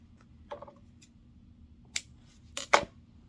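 Scissors snipping small notches along the top edges of fabric pieces, a few sharp separate cuts spaced apart with the loudest near the end, in a quiet room.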